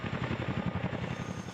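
A CH-47 Chinook military tandem-rotor helicopter thumps loudly and steadily nearby, its rapid rotor pulses continuous with no voices.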